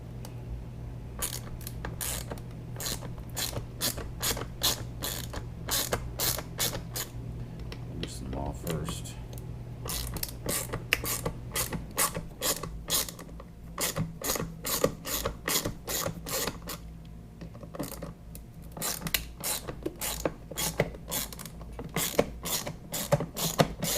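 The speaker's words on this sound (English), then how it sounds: "Those are Torx 20s, so I'm going to swap out to a Torx 20. Let's get these off." Ratchet and Torx 20 bit backing screws out of a latch cover on a Harley-Davidson Road Glide, giving a steady run of rapid dry clicks in bursts for about twenty seconds, close and fairly loud over a low background hum.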